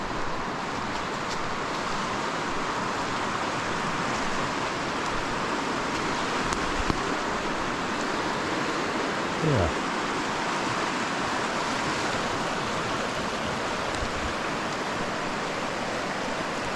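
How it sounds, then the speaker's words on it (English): The Goat River in Canadian wilderness rushes below as a steady broadband roar of flowing water, constant and unbroken, with a faint brief sound near the middle. "I think this is the Goat River down here."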